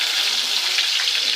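Chopped garlic hits hot oil in a kadai already holding urad dal and curry leaves, giving a loud, steady, close-up hiss of frying with no pauses.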